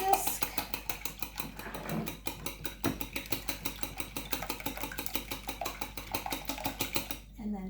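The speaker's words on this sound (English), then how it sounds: "So we're just going to give them a whisk." Three large eggs are whisked in a bowl for a quiche, giving a steady, rapid rhythmic clicking and tapping that repeats evenly throughout at moderate loudness.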